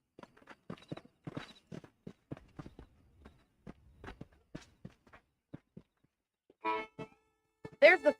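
In the Western video game Red Dead Redemption, a horse walks with a quiet, evenly paced clip-clop of hooves that slows and thins out, then a voice speaks briefly near the end.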